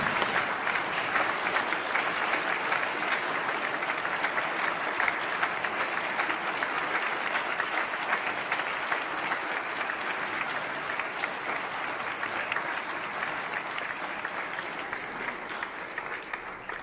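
Members of a state House of Representatives applaud honorees in a legislative chamber, sustained dense clapping from a crowd that holds steady and fades slightly toward the end.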